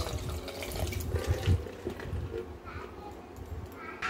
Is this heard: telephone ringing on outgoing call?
no